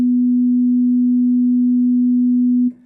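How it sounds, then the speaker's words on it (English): A steady, pure sine tone from the DSP sine in Guru Sampler holds one low pitch at constant loudness for nearly three seconds, then cuts off with a brief click and a short burst of noise. "if you play DSP sine in Guru Sampler, and if you hear clicks"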